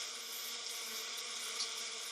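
Bees in a large colony buzzing in a steady, dense, continuous drone that holds at an even level, with no voices.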